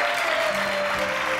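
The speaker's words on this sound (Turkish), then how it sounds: "Bir alkış yiyelim." A studio audience applauds during a Turkish television show: dense, steady clapping fills the short stretch at even loudness, close and continuous from start to finish.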